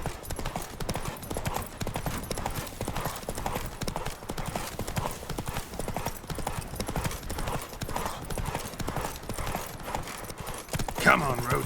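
Roach, a horse in The Witcher 3 game, galloping with a continuous rapid drumming of hoofbeats at an even pace, with a brief whinny-like flourish near the end and speech heard in the scene.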